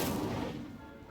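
An Incendio fire spell cast in Hogwarts Legacy bursts out as a single loud, close whoosh-boom that fades away over about a second.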